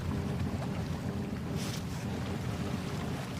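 Strong wind roars across the microphone, with a brief louder flutter midway as a sail luffs and flaps.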